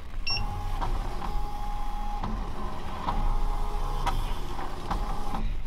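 An embroidery machine traces its design on a hat, giving a steady mechanical whir with regular clicking ticks as the frame moves, heard alone without talk.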